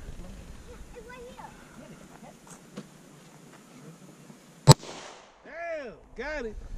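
A pistol fires one sharp, loud shot at a Pepsi can, standing out against a quiet outdoor background, followed shortly by people talking.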